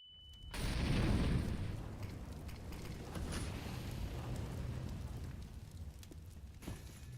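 A flashbang grenade goes off in a Counter-Strike match, a brief loud burst followed by a sustained ringing wash that fades slowly over several seconds, heard alone without talk.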